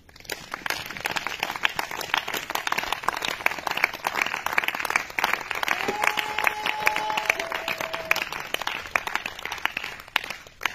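A church congregation claps together in praise of Jesus, a dense, sustained round of applause with cheering voices and a sung note rising above it midway.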